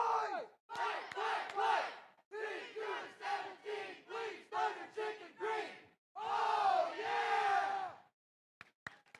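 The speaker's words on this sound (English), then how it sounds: "that's our Thunder Chicken cheer" A crowd of team members at a FIRST robotics district competition in Woodhaven shouts a rhythmic Thunder Chicken team cheer, with repeated loud chanted bursts and short pauses, then a longer sustained yell near the end.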